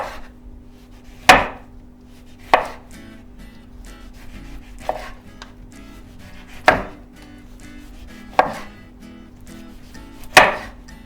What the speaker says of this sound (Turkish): Ondan önce limonlarımızı ince ince birer dilim içerisine koyacağım. İnce ince keseceğim.